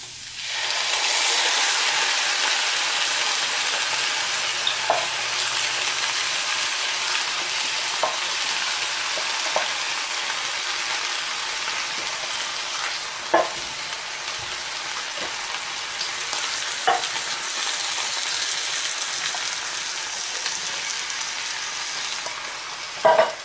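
Vegan chili with spices and beans sizzles steadily in a pot for a long stretch, with occasional scraping clicks and knocks as it is stirred.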